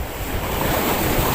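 Surf crashing against the shore during a fishing outing, a steady loud wash of breaking waves with wind buffeting the microphone, no voices.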